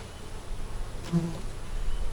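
Honey bees buzz around an open beehive in a steady, close, droning hum that keeps going and swells slightly near the end. No voices are heard.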